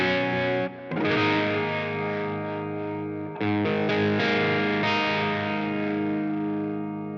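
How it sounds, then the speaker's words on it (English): Electric guitar run through a Line 6 Helix with the guitar's controls rolled back for a tamer, warmer Alter Bridge/Tremonti-style drive, less heavy than a lead tone. Sustained distorted chords ring out loud and alone, with a short break and a fresh strum midway. "if you roll back your controls on the guitar, it's just a little tamer and a little warmer and not quite as heavy as the lead sound"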